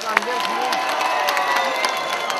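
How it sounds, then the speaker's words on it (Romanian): Crowd at an outdoor village celebration in Brates cheering and applauding, a steady mix of clapping and shouts with scattered voices underneath through the short stretch. "Aplauze pentru domnul primar!"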